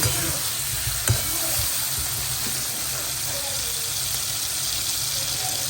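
Mango curry frying in a hot pan, a steady broadband sizzle running throughout with a brief clatter near the start, close and moderately loud with no talking.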